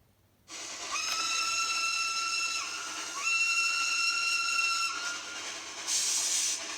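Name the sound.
steam train whistle and hiss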